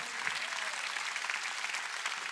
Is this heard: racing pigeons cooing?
no